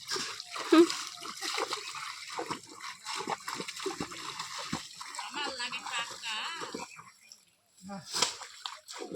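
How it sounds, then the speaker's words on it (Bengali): Jute bundles carried on the shoulder are tossed into a pond, giving repeated splashes and sloshes of water at close range, with people talking throughout. "এগুলোকে ঘাড়ে করে নিয়ে গিয়ে জলে ফেলতে লাগবে"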